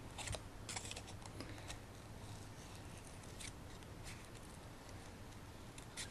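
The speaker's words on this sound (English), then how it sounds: "we'll get our sharp little pair of scissors out, and we're just going to kind of loosely fussy cut around here" Small sharp scissors fussy cut around a greeting card panel, giving a steady run of close, crisp snipping and paper rustle with no talking.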